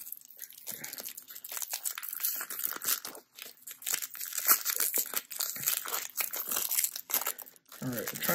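Crinkly foil wrapper of a vintage Japanese Pokemon booster pack being torn open and handled up close, with sharp crackles and rips in irregular bursts throughout.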